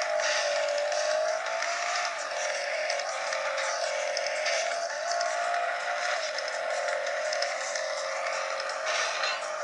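A car engine in a racing video game played on a Notion Ink Adam tablet, a continuous revving drone whose pitch shifts slightly as the car speeds along, fairly faint and without speech.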